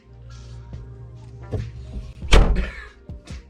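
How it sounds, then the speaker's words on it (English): A car trunk is opened outdoors, with a dull thunk and latch clatter building to a loud thump midway, followed by lighter knocks and rustling, close to the mic with no talking. "putting the camera in the trunk, opening the trunk"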